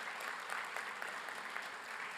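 Graduates and guests clapping at a college commencement ceremony, a steady, moderately distant wash of many hands with no talk over it.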